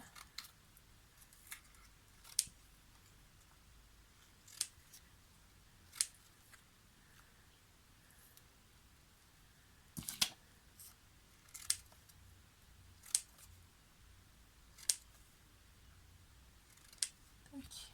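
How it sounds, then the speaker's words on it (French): Scissors cutting small seam edges for a boxed scrapbook mini album, quiet crisp snips spaced irregularly a few seconds apart over a near-silent background. "Là, on coupe tous les petits bords de couture."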